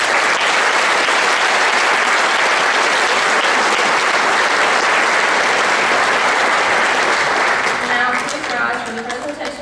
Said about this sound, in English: Will you all please join me in a round of applause for the veterans in attendance today?